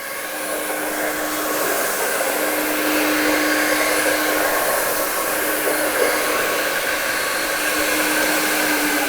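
An i-Mop XL floor scrubber runs steadily with a continuous whirring motor hum and brushing noise, close and fairly loud, with no voices.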